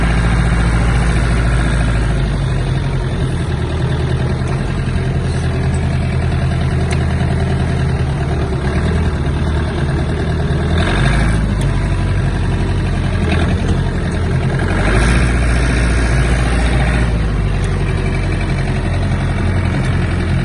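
A Mitsubishi MT-26 four-cylinder Japanese mini tractor engine runs steadily at low revs, a loud, even diesel drone with a deep rumble that holds throughout without a break.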